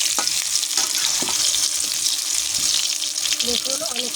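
Potatoes for a mutton biryani frying in oil and being stirred, producing a close, busy sizzle with clattering scrapes of a spoon against the pan and a few brief clinks near the end.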